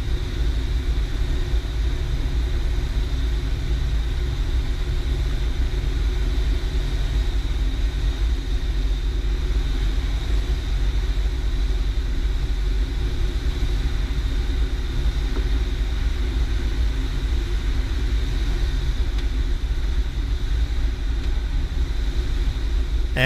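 A light training aircraft's engine drones steadily during final approach for landing, a constant loud rumble with a faint tonal whine running throughout, no voices heard.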